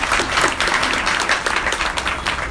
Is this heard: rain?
no